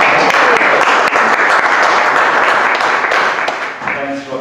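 An audience applauds to welcome Gary Bailey at the opening of an academy, a loud, dense, continuous clapping that holds steady and then starts to fade near the end.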